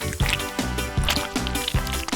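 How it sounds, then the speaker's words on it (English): Melted gummy bear syrup pours into a Labubu-shaped mold, sounding as a string of wet, sloshing glugs and drips that come in regular pulses, close and fairly loud, with no voices. "Before it dries, pour it into the mold."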